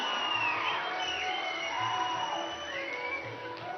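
An audience at a felicitation ceremony honoring Padma Vibhushan awardees, including Megastar Chiranjeevi, cheers with a continuous wash of crowd noise and whoops, loud and sustained, with faint tones running beneath.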